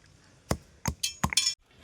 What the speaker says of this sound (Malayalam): ഇനി അടുത്ത് നമുക്ക് തുമ്പ ചതയ്ക്കാം